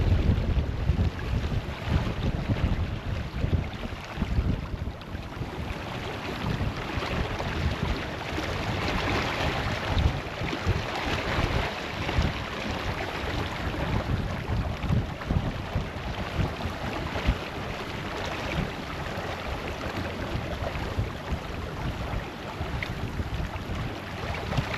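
Sailboat under way at about 6 knots under a full genoa, with a steady rush of water and wind across the hull and heavy wind buffeting on the microphone throughout.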